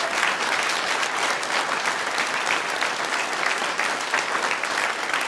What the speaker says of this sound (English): how about another great round of applause for our very special guests in Zoomer Hall, Canadian Brass